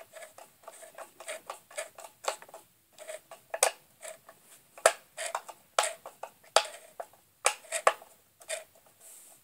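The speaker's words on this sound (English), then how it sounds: "Then you'd hold the fan and turn it this way until you can't tighten it no more." A Hoover motor's cooling fan is turned by hand to tighten it on stripped threads, giving a quick run of faint, close ticking and clicking in uneven bursts with no talk.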